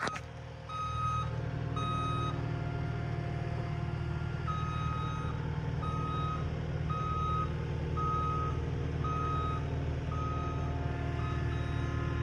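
A tow truck's reversing alarm beeps in a steady, evenly spaced pattern over a loud, constant idling diesel rumble, close by and with no talking.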